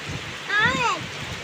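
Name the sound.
rain falling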